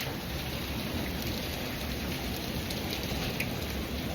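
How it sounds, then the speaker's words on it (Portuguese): Heavy hail and rain pour down during a late-afternoon storm in the Serra da Canastra countryside, a dense, steady roar of falling ice and water that continues without a break and fully covers the background. "Tá chovendo granizo."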